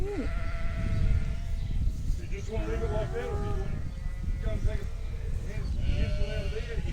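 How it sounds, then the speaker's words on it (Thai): A flock of sheep on a farm bleats in several wavering calls, some overlapping, over a steady rumbling, noisy outdoor background. "น่ารักมากเลยดูดิ ฝูงแกะ"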